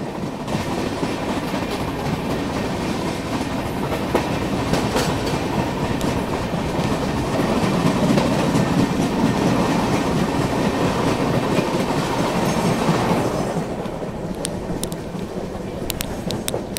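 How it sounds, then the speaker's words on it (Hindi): The Indore–Howrah Shipra Express runs at speed while overtaking the Bikaner–Howrah Superfast Express, heard from on board as a loud, steady rumble with rhythmic clickety-clack of wheels over rail joints that eases slightly near the end. "ओवरटेक कर रहे हैं बीकानेर हावड़ा सुपरफास्ट एक्सप्रेस को"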